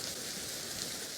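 Rain pours steadily in a Wuthering Heights film scene, a dense, even hiss of drops on surfaces that fills the short moment without any speech.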